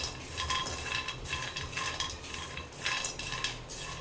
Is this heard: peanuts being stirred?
yes